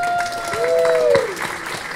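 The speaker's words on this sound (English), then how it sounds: "How about a big round of applause?" An audience at a tech meetup applauds to welcome a speaker, brief scattered clapping close by with a high whistle-like tone sliding down over it.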